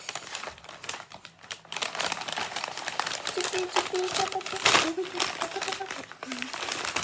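A large plastic bag crinkles and rustles in close, irregular bursts while it is handled during a box unboxing, with a voice talking over it.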